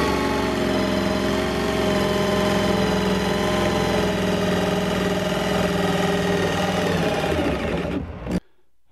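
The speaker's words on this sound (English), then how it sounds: "I've grabbed the Dremel to help me cut out those little cutouts" Dremel rotary tool cutting half-circle cutouts in a Hobie Outback kayak for a square hatch: a close, loud, steady high-pitched whine that runs continuously for about eight seconds before stopping abruptly.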